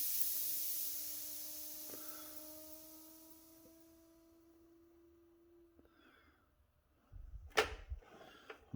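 Oxygen hissing out of an oxyfuel cutting torch as the lines are bled down, a broad steady hiss that slowly fades away to near silence, with a faint tone lingering and a few clunks at the end.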